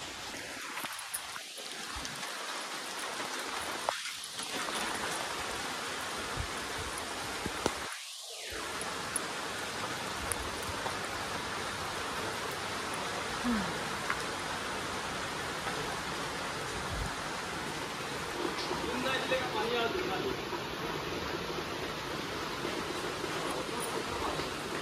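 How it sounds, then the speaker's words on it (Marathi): Heavy monsoon rain pours down in Konkan, Sindhudurg, a dense, unbroken roar of falling water that holds steady and loud throughout, with a few brief dips near the start. "जोरात पाऊस चालू झाला"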